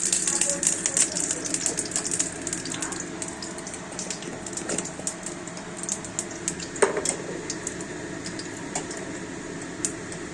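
Green chillies go into hot oil with black cumin seeds for frying potatoes, producing a steady close sizzle full of fine crackles and spits that eases slightly over time, with no talking.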